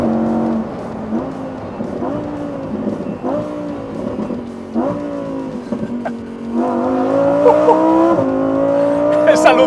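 Lamborghini Huracán EVO RWD Spyder engine accelerating hard, revs climbing in repeated surges through gear changes and building to a loud, sustained high-rev wail toward the end, with a voice talking over it.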